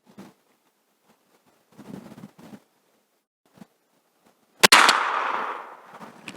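A single loud, sharp gunshot cracks during circle-breaking target shooting practice, followed by a long fading echo. Faint shuffling and handling noises come before it.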